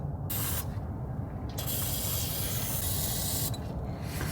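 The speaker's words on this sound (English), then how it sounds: "I'm going to spray this in every hole I..." An aerosol can of rust-protection spray hisses in several sustained bursts into body holes of a Nissan Skyline R34, loud and close, with brief pauses between sprays.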